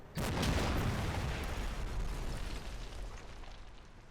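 In the World War II game Combat Mission: Battle for Normandy, a single mortar shell lands with a loud, sudden blast that rumbles and slowly fades over several seconds. No one speaks.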